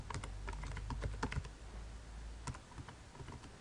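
Rapid typing on a computer keyboard as a username and password are entered, with dense clicking keystrokes in quick irregular bursts and a few sharper key hits, close up with no talking.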